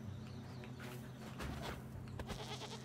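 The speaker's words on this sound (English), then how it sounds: "the goat should also jump up" A goat bleats in the video game Blanc, a few soft cries amid faint footsteps and ambient game sound, quiet and close.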